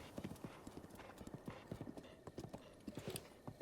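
Horse hooves clip-clop in a quick, steady gallop rhythm in Zelda: Breath of the Wild, close and fairly faint, with a brief whinny and low speech underneath.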